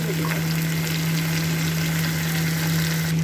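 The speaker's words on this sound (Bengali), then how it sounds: "চিংড়ি মাছগুলা আমি লাল লাল করে সুন্দর করে ভাজবো" Shrimp fry with onions in a hot pan, a loud, close, continuous sizzle with occasional crackles and no talking.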